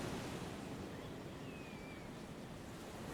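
Ocean waves wash in a steady, continuous broadband roar, a low rumbling surf with faint wind, uniform and unbroken with no voices.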